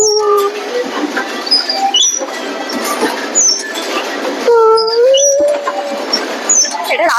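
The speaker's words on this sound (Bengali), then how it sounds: "আমরা এখন উঠেছি টয় ট্রেনে" A toy train ride at Nicco Park amusement park: high squealing, whining tones rise and glide over a steady rolling rumble, sharpening near the middle of the ride.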